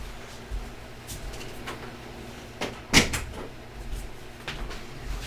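An office door swinging shut indoors gives a single close, sharp thud about midway, with a few softer knocks and bumps around it against quiet room tone.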